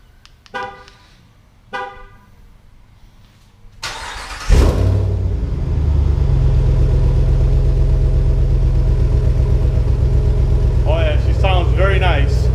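A 2019 Ram pickup with its muffler deleted is started after a few brief horn-like chirps, catching with a loud burst and settling into a deep, steady, booming idle close by while a person talks over it near the end.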